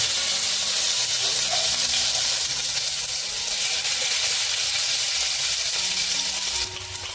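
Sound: garlic frying in hot oil

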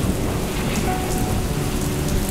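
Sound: heavy rain with thunder

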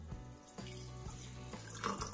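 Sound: water poured into juice mixture

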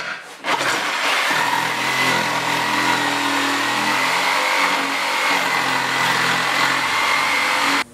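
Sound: power tool cutting out an opening in plywood

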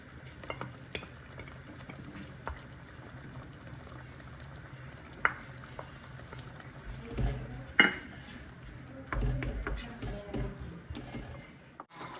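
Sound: stirring paneer bhurji with cream in a pan

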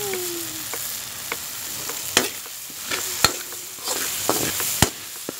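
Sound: sausage browning in a pan

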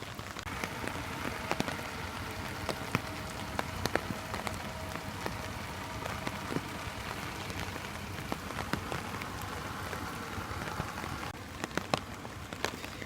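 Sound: rain falling

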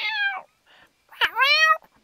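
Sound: voice imitating a cat meowing

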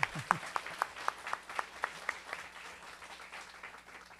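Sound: audience applause for Mariana

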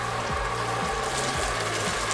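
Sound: pouring a little water into tomato sauce in a Dutch oven

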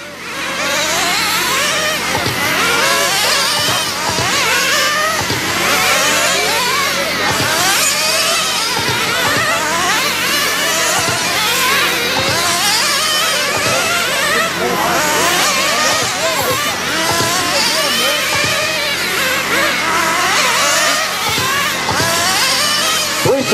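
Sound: nitro cars racing

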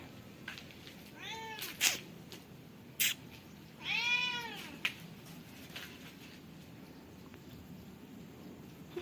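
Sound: cats meowing

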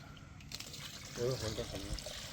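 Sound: liquid being poured into a container

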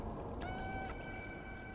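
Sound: cat sounds in the video game Stray

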